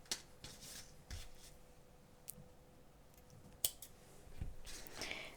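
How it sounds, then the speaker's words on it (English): Scissors snip through crochet yarn in a few quiet, close cuts with light rubbing and clicking in between, no talk. "so I will cut my yarn"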